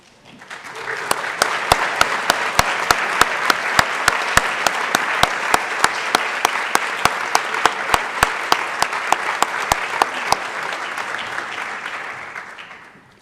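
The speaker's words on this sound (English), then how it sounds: "acknowledge your achievement with a well-deserved round of applause" Audience at a capstone ceremony breaking into loud sustained applause that swells in quickly, holds steady for about ten seconds with sharp close claps standing out, then fades away.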